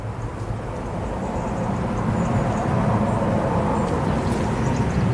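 A TUI airliner taxiing at Manchester Airport gives off a steady, broad jet-engine roar at moderate distance, holding continuous and even with a slight swell toward the end.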